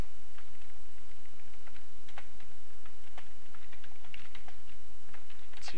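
Rapid, uneven typing on a computer keyboard, a continuous stream of close plastic key clicks with short pauses and no talk.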